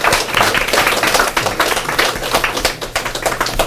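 A church congregation claps together during a Sunday service, a dense, close burst of hand claps with a lively uneven rhythm that carries on throughout.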